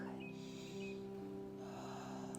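Slow, smooth breathing during a guided breathing exercise, a faint continuous airy inhale and exhale, close but quiet over a soft musical drone.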